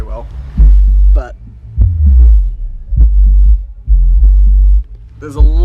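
A Rockford Fosgate subwoofer in the trunk of an Audi A4, driven by a T1000X5AD amplifier, pumps loud, deep bass in heavy repeated throbbing bursts, heard close up inside a workshop.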